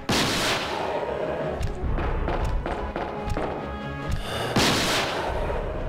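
Electric spark shot weapon firing repeatedly in Resident Evil 2, mixed with dense game combat against a mutated clawed boss, loud and continuous with several sharp bursts.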